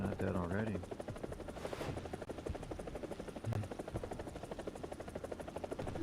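An armored helicopter on a custom Explorer Sweden map in a video game, its rotor throbbing as a steady rapid chop under someone talking over it, with a brief hissing burst partway through.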